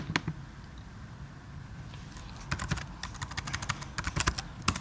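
A password typed on a computer keyboard: a few isolated key taps, then a quick burst of clicking keystrokes in an irregular rhythm, close and fairly quiet over a faint room hum, with no talking.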